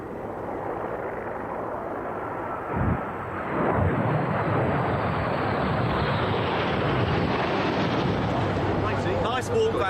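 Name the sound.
Red Arrows jet aircraft arriving at RAF Valley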